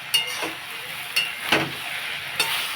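A spoon stirs ivy gourd and puti fish curry in a pan, a soft sizzle running underneath with a few sharp scraping clinks against the metal at irregular intervals.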